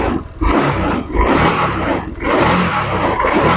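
A Honda Beat scooter-type motorcycle with a sputtering fault has just started and is revved steadily, its loud engine roar swelling and dipping in repeated bursts close to the microphone.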